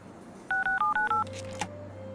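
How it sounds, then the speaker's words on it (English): Telephone-style keypad tones from a safe code being entered in the video game Leisure Suit Larry: five quick, evenly spaced dual-tone beeps, followed by a short electronic chime and a soft click, clear and alone. "what should I dial?"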